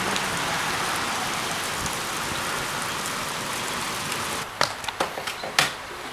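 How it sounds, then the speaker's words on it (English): Steady rain falls hard and evenly, a dense hiss throughout, with a few sharper knocks and taps near the end. "And of course, it's raining again."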